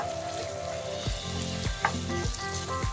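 Hungarian sausage sizzling sisig with mayonnaise frying in a pan and being stirred, a steady close sizzle broken by several scraping strokes of the spoon.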